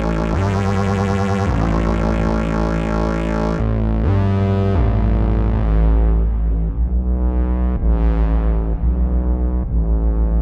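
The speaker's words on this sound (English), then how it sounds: "So now the effect of the phaser is a lot more hearable." Synth notes run through a distortion pedal into a phaser, giving a gritty, buzzing tone with sweeping notched filtering, a series of loud sustained notes and chords alone without talk.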